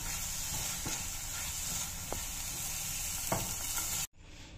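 Raisins, walnuts and almonds stirred in a pan beneath a steady hissing sizzle, with a few soft knocks of the utensil before the sound cuts off abruptly.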